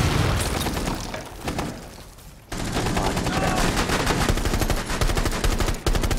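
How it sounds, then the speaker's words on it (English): A dull blast is followed by rapid, dense bursts of gunfire, loud and continuous, with sharp pops crackling throughout. "And explosion."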